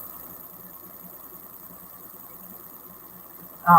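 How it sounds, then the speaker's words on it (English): An air conditioner runs steadily indoors, a low, even hum filling the background throughout, until a sudden louder burst of sound cuts in at the very end. "Pardon me if you hear the AC running in the background."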